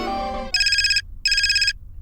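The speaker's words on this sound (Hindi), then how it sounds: "नैना देखो किसका फोन है।" A mobile phone ringtone rings nearby, two bursts of bright warbling electronic tone separated by a short gap, following a brief melodic tone.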